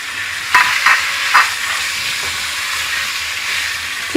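Garlic and chicken frying in hot oil in a pan, a steady sizzle throughout with a few sharp scraping stirs near the start.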